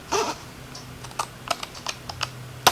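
Long craft scissors snip through paper card in a quiet room, giving a few short crisp cuts spread irregularly, with a sharper final snip near the end and no talking.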